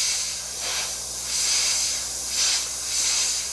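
Airbrush spraying camouflage color onto a model jet aircraft, a close airy hiss that swells and eases in several overlapping passes, with a faint steady compressor-like undertone throughout.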